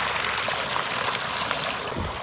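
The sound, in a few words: clean tubewell water flowing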